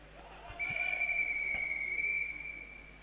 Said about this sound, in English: The whistle's gone now